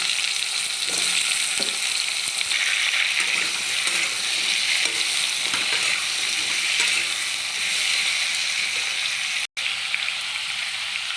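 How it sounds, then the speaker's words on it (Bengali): Cut pumpkin and potato fry in oil with a dense, even sizzle up close, brief stirring clicks dotting the steady hiss. "কেটে রাখা মিষ্টি কুমড়ো আর আলু তেলের মধ্যে দিয়ে দিলাম"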